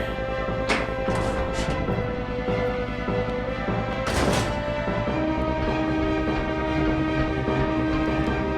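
A moving train in Resident Evil Zero on the GameCube gives a continuous low rumble with steady tonal hums. Brief louder bursts and clatter rise out of it now and then, with no talking.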